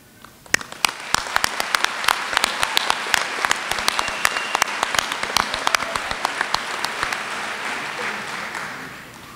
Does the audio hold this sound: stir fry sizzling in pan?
no